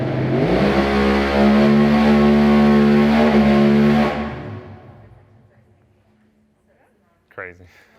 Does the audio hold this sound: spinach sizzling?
no